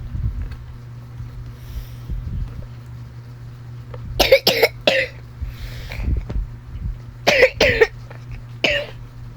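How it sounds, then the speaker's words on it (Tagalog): A young girl coughs in several bursts, a cluster of sharp coughs followed by another group a few seconds later, loud and close over a low background hum. "inuubo kasi ako eh"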